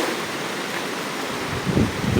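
Strong, gusty wind rushes past outdoors on a banana farm after a typhoon, a continuous broadband roar that swells briefly near the end.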